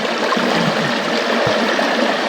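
A mountain river flows in a steady, close rush of water, with a continuous broad splashing babble and a couple of brief low gurgles, no voices.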